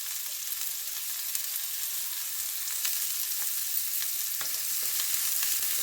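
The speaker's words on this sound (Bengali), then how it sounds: "পেঁয়াজ কুচিগুলো আমি তেলের মধ্যে সব দিয়ে দিলাম।" Finely chopped onions frying in oil: an even, crackling sizzle with small pops and occasional light clicks, steady and close, with no talk.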